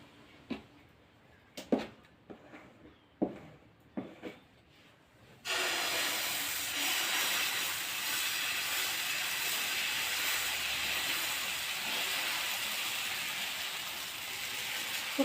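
Dosa batter spread on a hot oiled pan for a Sankranti festival dosa, a loud, steady broadband sizzle that starts abruptly and holds evenly, after a few soft clinks and taps at the start.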